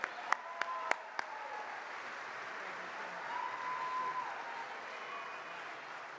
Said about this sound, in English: Let's have a good round of applause for Buddy Shaffer.